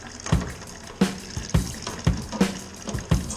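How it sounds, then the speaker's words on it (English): Water filling a brewing vessel ahead of mashing in a raspberry beer batch, a steady close splashing rush with regular louder gushes and clunks roughly every half second, no voices. "as the water's filling here,"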